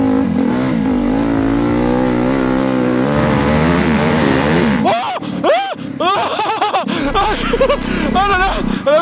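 Turbocharged two-stroke dirt bike engine revs hard in a sustained, rising drone for the first half, then breaks into choppy bursts of throttle, close and loud, with excited voices talking over it.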